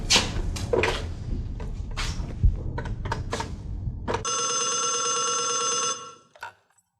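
A telephone rings in a PTV Urdu drama: several knocks and bumps come first, then a bright electronic ring holds loud and steady for about two seconds before cutting off with a brief trailing click.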